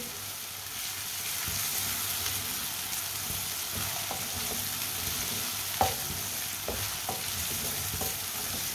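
Crushed ginger and garlic fry in hot oil in a pan, giving a steady, close sizzle with occasional stirring clicks and scrapes of a spoon.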